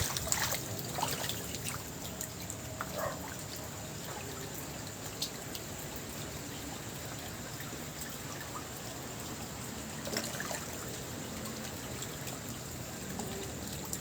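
Flood water flowing: a soft, continuous rushing trickle, quiet and fairly even, with a few faint splashes and knocks at the start and near ten seconds, no talking.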